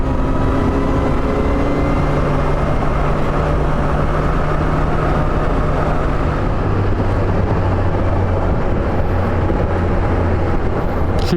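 A Kawasaki Versys 1000 motorcycle cruising in sixth gear at about 60 and roughly 2000 RPM gives a steady, close low engine drone, with constant wind rush throughout and no break in the sound.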